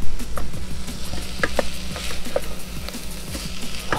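Sauteed food sizzles in a pan beside a Green Mountain Grills Davy Crockett portable pellet grill, a steady close hiss with faint scraping stirs and light clinks.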